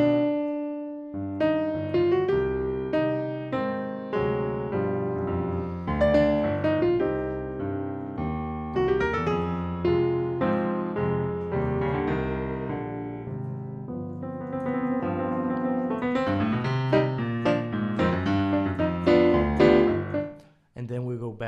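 Solo tango piano melody played with flexible, fluctuating tempo, dense harmonic notes ringing continuously over bass chords, loud and close for about twenty seconds before a final struck chord.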